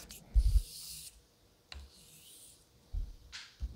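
A straight razor blade is sharpened on a stone with slurry, soft gritty rubbing strokes in a slow back-and-forth rhythm, close and quiet, with light knocks between passes.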